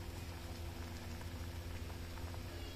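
Payasam boiling in a pot with cardamom powder, a steady low bubbling simmer that continues close up and evenly throughout, with no talking.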